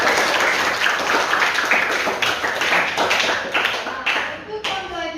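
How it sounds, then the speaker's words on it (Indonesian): A class of students applauds together at the end of a lesson, with dense, steady clapping from close by that carries on for the whole stretch and tapers slightly at the end. "Tepuk tangan dulu."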